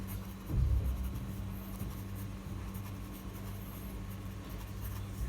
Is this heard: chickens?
no